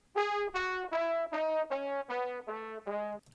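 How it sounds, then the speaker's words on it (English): A trumpet pitched down so it takes on a trombone-like timbre, playing eight sustained notes in a stepwise descending line, each a separate rich brassy tone with clear gaps, close and fairly loud with no talking. "It literally sounds like a trombone."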